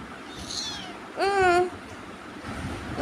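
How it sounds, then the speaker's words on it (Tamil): A kitten gives one clear, rising-then-falling meow in the middle, preceded by a fainter, shorter mew, against quiet room background noise. "நான் போய் எங்கள் பூனைக்குட்டியை கொண்டு போய் பால் கொடுக்க வச்சுட்டு"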